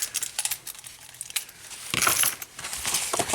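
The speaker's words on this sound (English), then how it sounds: "just piecing keys together" Nissan car keys and key fob parts handled up close, with irregular metallic clinks and rattles and a denser jangling burst partway through.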